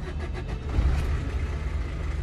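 A car engine turns over and catches, a rough burst near the start that settles into a low, steady running rumble close by.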